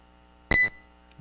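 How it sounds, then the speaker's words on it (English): A quiz-competition buzzer at a scholarship challenge event sounds once, a short loud harsh electronic tone of about a quarter second, with no talk during it. "The buzzer."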